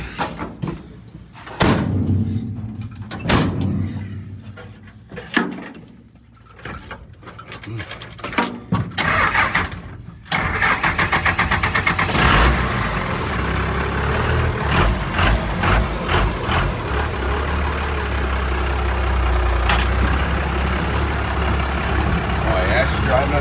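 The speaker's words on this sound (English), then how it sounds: "Driving as a pickup truck. It's a pickup truck again." A Cummins-powered Fargo pickup truck: door slams and clunks for the first ten seconds, then a steady loud low diesel engine drone as the truck runs and drives. Speech is heard over parts of it.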